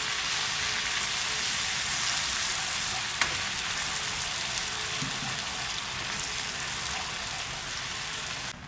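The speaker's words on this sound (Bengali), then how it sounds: "আদাটা একটু ভেজে নিই" Ginger paste fries in oil in a pan with a continuous close crackling sizzle, even and unbroken throughout, with a faint stir or tap now and then.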